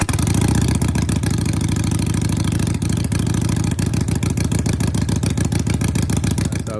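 A 2017 Harley Sportster motorcycle engine with an aftermarket exhaust idles loud and close, its lumpy, uneven firing pulses thumping steadily throughout.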